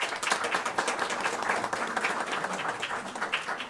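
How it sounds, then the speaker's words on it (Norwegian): Steady applause fills a municipal council meeting room, many hands clapping evenly and continuously without talk. "Vi gir en applaus for det."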